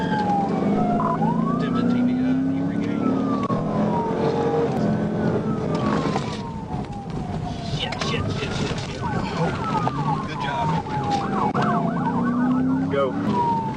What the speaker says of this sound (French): quand les gyrophares et la sirène se sont allumés